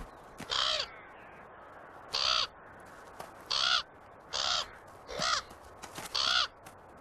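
A young raven gives six harsh, evenly spaced caws, each about half a second long, loud and clear against a quiet outdoor background.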